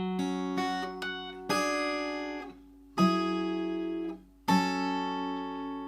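Acoustic guitar picking the opening two bars of a song, five plucked notes and chords ringing out alone, each attack followed by a clear decay, close and clean with no talking.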